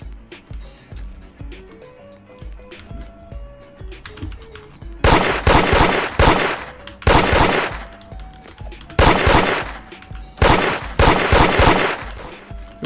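Gunfire in a raiding video game: scattered quieter shots at first, then loud, close automatic bursts in three heavy volleys separated by short pauses.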